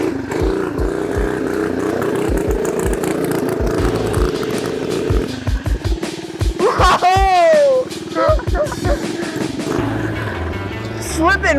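A mini bike fitted with a Juggernaut torque converter climbs a hill, its small engine droning loud and close, then revving and rising in pitch, while people talk over it.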